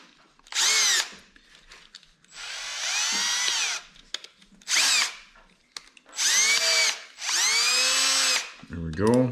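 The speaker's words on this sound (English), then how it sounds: "Okay, we use the drill side first." A handheld power drill whirs in five or six short bursts, pausing and restarting between them, during restoration work on a Honda Big Red 250es three-wheeler.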